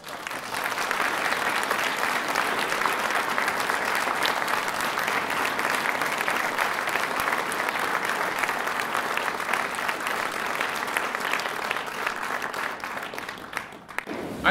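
Sustained, dense applause from an audience at a choir concert, steady and even throughout with no break, loud and enveloping, with no voices standing out.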